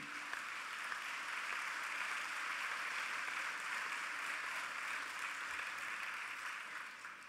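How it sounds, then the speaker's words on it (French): Distant, quiet audience applause at a French conference session on Europe: a steady, even wash of many hands clapping with no voices over it, tapering off at the end. "Oui, on peut l'applaudir, on peut l'applaudir."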